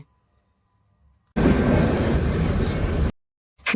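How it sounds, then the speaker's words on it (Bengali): A toy train from Kalka running along a hillside, heard as a loud, steady rumble of rolling wheels that cuts in abruptly after near silence and stops just as sharply. "একদম পাহাড়ের ধার দিয়ে ট্রেন যাচ্ছে"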